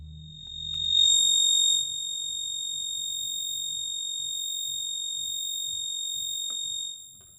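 A very high, piercing sustained tone from a Modal Argon 8m synthesizer rings steadily for several seconds with faint quiet clicks underneath, then cuts off near the end.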